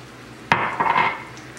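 Beef broth hits hot browned beef in a pan: a sharp splash starts a loud, brief sizzle that settles over about a second into a softer bubbling hiss.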